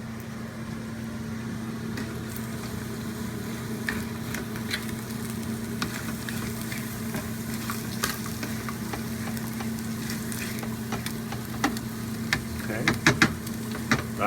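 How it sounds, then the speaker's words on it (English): Diced ham and rice stirred in a frying pan: steady frying sizzle over a low hum, with scattered spatula scrapes growing busier near the end, no speech. "So I'm going to stir everything in here."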